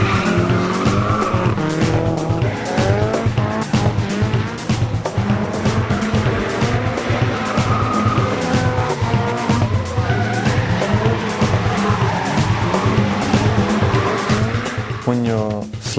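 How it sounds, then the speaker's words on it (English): A 2-litre turbo-powered AE86 drifts sideways in the Sideways Ireland racing game, its engine revving hard and shifting pitch beneath continuous loud tire squeal throughout. "When you're sliding and you're counter steering with opposite lock"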